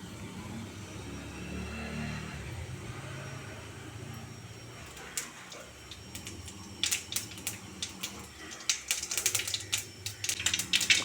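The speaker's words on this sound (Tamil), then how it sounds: "கடுகு கொஞ்சம் பொரிஞ்சு வரட்டும்." Mustard seeds crackle in hot oil in a pan. After a quiet stretch, sharp popping bursts in quick irregular clusters, close and growing denser and louder toward the end.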